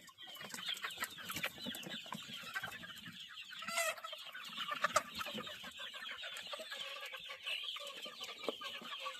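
Several Sonali chickens on a poultry farm cluck softly and steadily nearby while feeding, a busy murmur of short calls with no talking.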